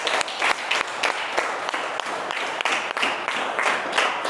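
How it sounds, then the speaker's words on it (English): A seated audience gives a sustained round of applause at a live talk, a dense and steady wash of many hands clapping at close range for the whole stretch. "Let's give ourselves a round of applause."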